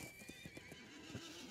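Hooves clip-clop in a quick steady rhythm under a horse's neigh in a Lord of the Rings Online game, all faint and with no talk.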